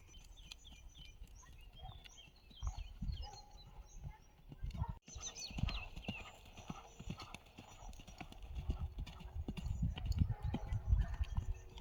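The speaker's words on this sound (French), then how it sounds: "Paul Arthur, tu te le mets au trot, aller-retour sur le petit tronc." Horse trotting over a small log during jumping training, with steady clip-clop hoofbeats on soft ground growing heavier toward the end, plus faint birdsong and a brief whinny in the background.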